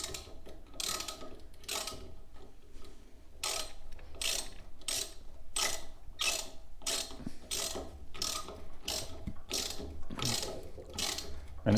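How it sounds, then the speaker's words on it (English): A 3/8 inch drive ratchet turns a universal socket, giving a steady run of crisp ratcheting click bursts in a regular rhythm, close up, with no talking. "So we'll put the socket on the ratchet, and again this is a 3/8 inch drive here"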